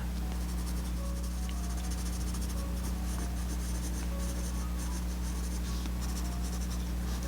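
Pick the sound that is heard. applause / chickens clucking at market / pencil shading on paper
pencil shading on paper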